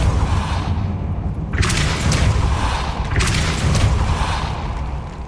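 Fiery Confringo blast spell in the Hogwarts Legacy video game: a loud, sustained roaring rumble with two sharp crackling bursts, one in the middle and one near the end.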